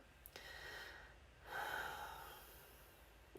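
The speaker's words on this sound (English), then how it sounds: "So if you just want to take a couple of breaths with me right now" One slow, deep breath is taken close to the mic, an airy inhale followed by a longer, louder exhale in a quiet setting.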